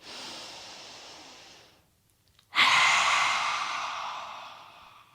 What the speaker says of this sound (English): big breath in. Exhale. Inhale.